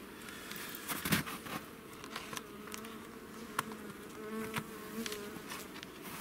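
Honeybees buzzing at a hive in winter, a close, continuous droning hum with occasional sharp crackles and taps as the hive is handled, no talk over it.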